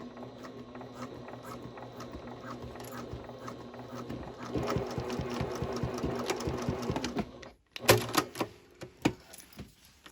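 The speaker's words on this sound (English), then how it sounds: "I use the tip of my seam ripper to kind of hold it in place so I don't sew over my fingers." A sewing machine stitches a zipper onto a triple-zip fabric bag in steady rapid bursts, starting at a moderate pace, speeding up midway, then pausing briefly before a few short, louder runs of stitching close by.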